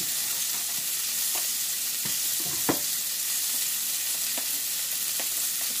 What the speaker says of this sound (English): I'm going to go ahead and throw my patties in